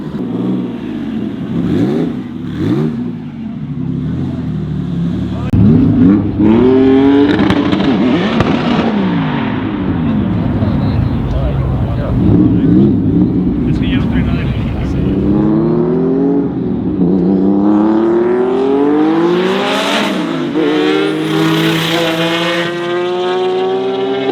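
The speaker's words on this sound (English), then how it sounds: "I decided to do a little bit of a burnout to heat up the tires a little bit just to try to get traction." A turbocharged flat-six Subaru WRX STI doing a burnout at a race track, the engine revving hard and loud in rising and falling sweeps with sharp popping bangs, close and sustained.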